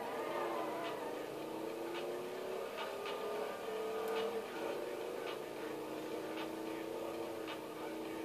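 Racing car engine in the video game Midnight Club, a steady mid-pitched drone with faint shifting tones and a few brief clicks, continuous throughout at low level.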